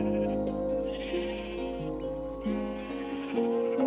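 Sheep bleat in the Minecraft video game, several wavering game bleats in quick succession layered over a steady musical drone, fairly loud and up close.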